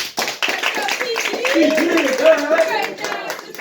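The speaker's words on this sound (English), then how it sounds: "Clap that up." Clapping from a podcast audience continues under chatter and overlapping voices, with a busy, steady texture throughout.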